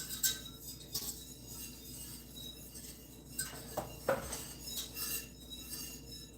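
A utensil stirs lemon pie filling in a pot, giving soft, irregular scrapes and light metallic clinks against the pan at close range, with a few sharper knocks spread across the passage.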